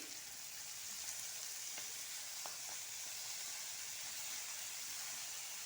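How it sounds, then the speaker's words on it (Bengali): Chopped banana flower hits hot oil in a pan and fries, giving a steady, close, bright sizzling hiss with a few faint pops and no talking. "এখন মুচাটা ঢেলে দিব"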